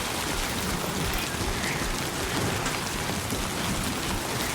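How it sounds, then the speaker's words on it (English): Steady rain falls in a dense, even hiss, loud and continuous throughout with no break or voices. "I can't do nothing about that rain"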